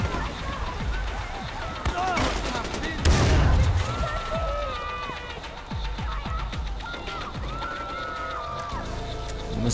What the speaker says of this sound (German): Nachladen, das ist eine Schotti.